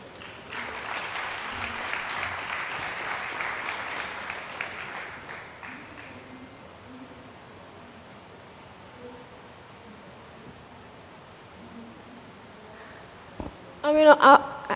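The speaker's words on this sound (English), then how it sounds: "Let's all give them a round of applause." Audience applause at a panel dialogue on children's rights and climate justice, a burst of clapping for about six seconds that fades into quiet room noise, with a brief sharp knock near the end.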